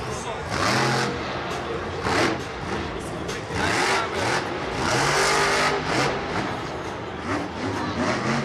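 A Monster Jam truck driven by Alex Blackwell at MetLife Stadium revs hard while climbing over crushed cars, with loud rising and falling engine surges repeating throughout and commentators talking over the roar.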